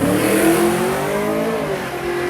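A 1981 Chevy Camaro accelerates down a drag strip, its engine note climbing steadily and loudly as it pulls away, a continuous close-up roar with no talk over it.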